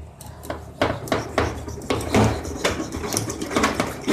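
Knife chopping through a catfish's head on a hard surface, a run of sharp, irregular thuds and clacks close by, some heavier strikes among lighter taps.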